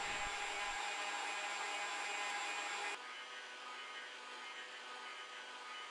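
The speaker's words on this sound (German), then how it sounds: "Die weiche Butter mit dem Quirlen in etwa 5 Minuten cremig schlagen." An electric hand mixer beats soft butter until creamy, a steady, close motor whir that drops to a lower level about halfway through and then holds constant, with no talking.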